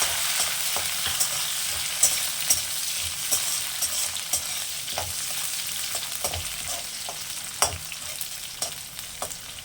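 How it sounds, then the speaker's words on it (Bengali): Cashews and raisins frying in hot oil or ghee for basanti pulao, a steady sizzle broken by scattered clicks and scrapes of stirring against the pan, close and moderately loud. "এবার আমরা এর মধ্যে কাজু কিশমিশ পুরোটা দিয়ে দেবো। কাজু কিশমিশটা হালকা করে ভেজে নেব।"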